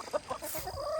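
Chickens and a rooster cluck briefly on a farm during chores, short soft calls close by over light background noise.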